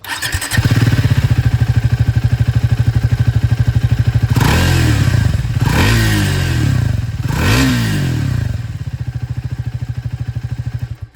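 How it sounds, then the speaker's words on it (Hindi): An older-engine Triumph Speed 400 motorcycle chugs at a steady idle, then gives three quick revs that swell and drop away before it returns to a lumpy idle. It is close and loud, with no talking. "पुरानी वाले जो इंजन उसकी भी आवाज़ सुन लीजिए।"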